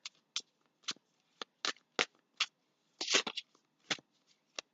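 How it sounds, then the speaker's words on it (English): Tarot cards shuffled and drawn from a deck, a series of about a dozen crisp, close riffling snaps and slides with brief quiet gaps between them. "I'm going to pull out a couple more cards here."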